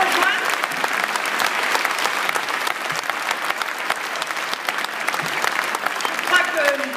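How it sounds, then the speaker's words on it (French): Sustained applause from delegates at a French Communist Party congress, a dense, even crowd clapping with scattered sharper claps standing out, continuing steadily throughout. "Je crois que nos applaudissements"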